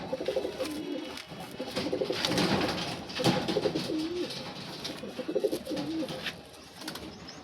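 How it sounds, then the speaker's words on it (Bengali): A pair of Madras Giribaz pigeons coo near at hand in repeated throaty, rolling phrases that run steadily from start to end. "নেক্সট পায়রা দেখাচ্ছি এবার।"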